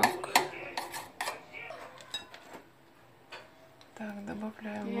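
Flour stirred into melted butter in a pot for lasagna, with clinking spoon-on-pot taps and scraping strokes up close, interrupted by a voice talking.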